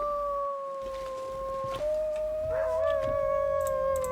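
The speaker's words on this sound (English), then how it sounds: "Listen to them wolves out there being so wolfy." Wolves howl outside in a long, sustained chorus, several voices overlapping with rising and wavering tones over steady background noise.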